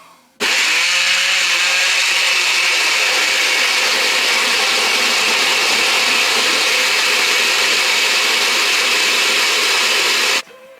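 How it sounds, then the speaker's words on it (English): A kitchen blender purées homemade pasta sauce with thyme, whirring loud and steady for about ten seconds after a brief start, then cutting off abruptly. "Okay, and then that's ready to blend."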